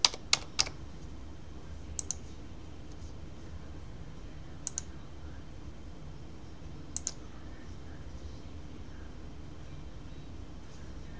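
Someone types a password on a computer keyboard while testing an Ubuntu MATE install, heard as a few short bursts of light, close key clicks spaced apart over quiet room hiss.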